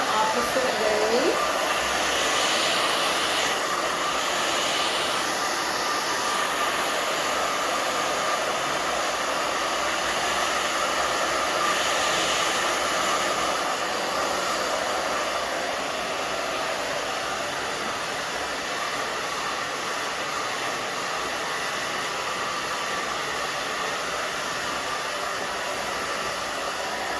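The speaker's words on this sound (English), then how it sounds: "I am drying the opposite way just to give her a little bit of fullness." A hair dryer blows steadily while styling a growing-out pixie cut, a loud close continuous whoosh that holds for the whole stretch with slight shifts as the airflow is moved around.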